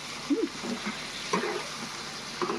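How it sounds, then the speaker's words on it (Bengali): Chicken kosha cooking in oil in a pan gives a faint, steady sizzle, broken now and then by soft stirring scrapes. "দেখুন কষতে কষতে দেখুন তেল ছাড়তে শুরু করেছে"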